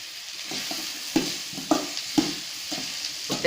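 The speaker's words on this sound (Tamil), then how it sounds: "நல்லா வதக்கிக்கிட்டே இருங்க" Pirandai (adamant creeper) sautés in oil with a little salt in a pan, giving a steady sizzle broken by repeated spatula scrapes and taps at a fairly even rhythm, close and clear.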